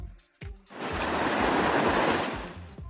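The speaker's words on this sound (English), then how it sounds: "it can find the sound of waves." Ocean waves on a beach: a few soft knocks, then a broad rushing wash of surf swells up and slowly recedes, close and fairly loud, with no voices.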